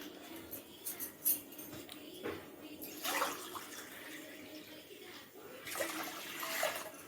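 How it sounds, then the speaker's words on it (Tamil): Water poured from tumblers into a pot while making millet pongal, several splashing pours in separate bursts over a quiet kitchen background. "6 டம்ளர் தண்ணி இதில் ஊற்றிக்கலாம்."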